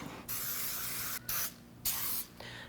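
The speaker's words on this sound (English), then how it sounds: "I'm gonna spray this with some baking Pam." Pam cooking spray misted over a baking dish for a peach berry cobbler: three loud, hissing bursts, one long and two shorter, close to the microphone with brief pauses between them.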